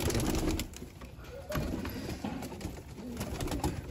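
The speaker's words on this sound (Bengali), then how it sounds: "ছোট্ট লকটার মধ্যে অনেক পায়রা আছে" Many pigeons crowded in a small loft coo softly and repeatedly, their low rolling calls overlapping at close range, joined by a few scattered wing and shuffling sounds.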